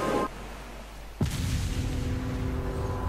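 A deep boom erupts in a video game intro for Krater after a quieter musical stretch, then a rumbling roll that lingers under the soundtrack.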